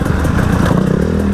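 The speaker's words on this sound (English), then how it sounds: "Like this KTM two-stroke I'm riding" A KTM two-stroke enduro motorcycle ridden close by, its engine giving a steady, loud, buzzing rattle with a rapid pulsing beat and no speech.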